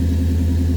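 A fuel-injected 1965 Oldsmobile Cutlass convertible restomod engine runs at a steady idle, a low, even rumble close by with no other sounds.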